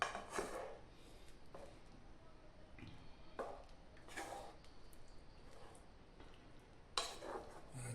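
Chicken being stirred in coconut milk in a pan, with soft scraping and clinking strokes at irregular intervals, fairly faint and close.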